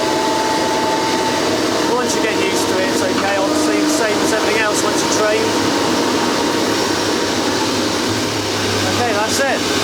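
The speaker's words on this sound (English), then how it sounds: "they're just about to start number 1 engine now" An aircraft's number 1 engine spins up at Bristol Airport at night in the rain, a loud steady roar and whine filling the air with brief higher tonal sweeps, under indistinct voices.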